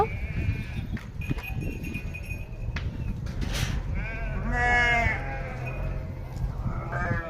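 Goats bleat a few times at close range, wavering cries rising over rustling and scattered background voices.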